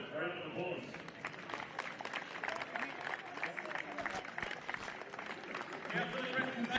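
Crowd applause at a football cup final presentation between Oakleigh Cannons and South Melbourne, faint scattered clapping from a distance, mixed with a murmur of voices.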